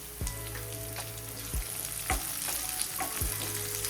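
Ginger, garlic and chili sizzle steadily in hot oil in a pan for a Kathiyavadi dhokli curry, with a few sharp clinks of a spoon stirring against the metal.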